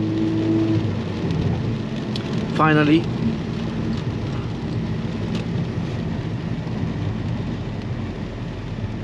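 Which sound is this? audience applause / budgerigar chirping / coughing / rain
rain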